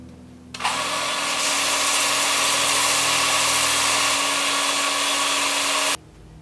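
A power sander works a cherry-plum wood bowl at a workbench, starting abruptly, holding a steady loud whirring drone for about five seconds, then cutting off.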